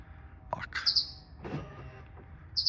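A Rivian vehicle answers its Gen 2 key fob with short, high electronic lock chirps, a quick double chirp early and another at the end, mixed with mechanical clicks and a soft whirring hum in between.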